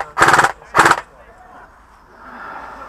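An airsoft gun fires two short, rapid bursts of loud, close pops during a game at E.A.G Worthing, followed by quieter background noise.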